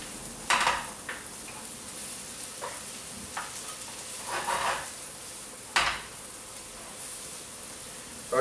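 Onions and mushrooms fry in butter in a pan for a vegetarian Wellington, giving a steady, close sizzle. Occasional clatters of stirring punctuate it, and no one speaks.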